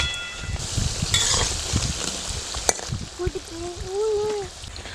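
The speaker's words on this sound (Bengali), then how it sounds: "আমি একটা চামচ দিয়ে আস্তে আস্তে সরিয়ে দিচ্ছি যেটা না লেগে যায় একটার সাথে একটা" Mustard flower fritters fry in oil while a spoon nudges them apart, giving a soft bubbling crackle with a few light scrapes and clicks, then a short animal-like call near the end.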